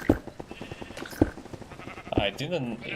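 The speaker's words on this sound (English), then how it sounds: "Here we have some automatic sheep farm for the wool, eggs." Minecraft sheep bleat on an automatic wool farm, several short bleats over a quiet game background while someone talks through the whole stretch.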